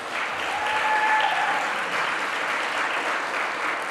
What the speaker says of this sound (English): Give it up for yourselves for staying here.